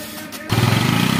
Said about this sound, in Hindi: ये अब ये बैठ गया मोटरसाइकिल पे और ये जा रहे हैं